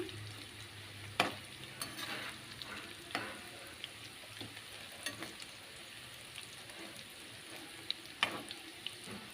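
French fries cut straight from raw potatoes and tossed in masala frying in hot oil, a steady crackling sizzle broken by occasional stirring scrapes, close and fairly quiet.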